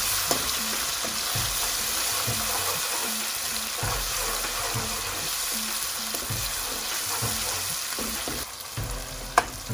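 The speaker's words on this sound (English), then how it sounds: "So onions and ginger garlic paste are combined and fried together." Onions and ginger garlic paste frying together in a pan for chicken biryani, a steady loud sizzle with rhythmic scraping stirs throughout and a sharp clink near the end.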